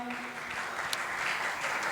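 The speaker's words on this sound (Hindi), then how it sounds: "जोरदार तालियां बजाइए उनकी अनुमोदना में" Audience applause at a religious discourse gathering, a continuous wash of crowd clapping that holds steady and fairly loud from start to finish without a break.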